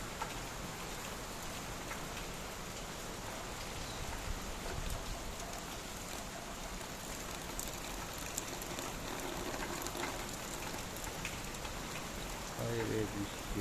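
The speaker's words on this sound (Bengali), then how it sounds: "এত বৃষ্টি হইতেছে বলার বাইরে।" Heavy storm rain in a flood-prone Barisal area pours in a dense, constant roar, faint and somewhat distant, with a low murmur of voices underneath.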